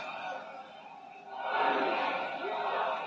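A wrestling arena crowd swells from a murmur into a loud, sustained roar during a steel-cage match between Triple H and Stone Cold Steve Austin, heard from a distance.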